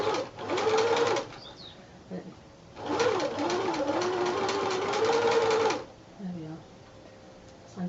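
A sewing machine stitches slowly through fabric for a handmade fireplace project, running in two steady whirring bursts with a pause between, close and fairly loud, with soft talk heard faintly around it.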